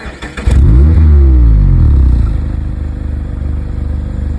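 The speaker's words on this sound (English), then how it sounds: "The soothing sounds of the MX5 draw me closer." A Mazda MX-5 Miata engine sounds up close and loud, with a sharp revving burst that settles into a rumbling, steady idle with a clattery pulse.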